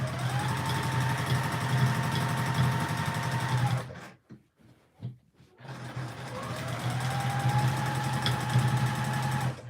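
A Juki sewing machine stitches steadily at medium speed during free-motion quilting, a continuous loud motor whir that stops briefly midway with a few soft clicks, then starts up again.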